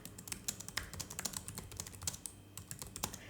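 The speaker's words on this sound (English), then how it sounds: "let's type this here" Fingers typing on a computer keyboard in a steady run of quick, light clicks and taps, fairly close and alone without any talk.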